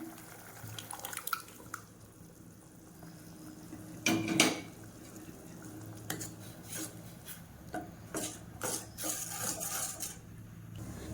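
Dissolved toor dal poured into a pot of boiling sambar being made for idli, giving a wet splashing and sloshing in several bursts with one louder splash partway through, close by, over a steady kitchen background.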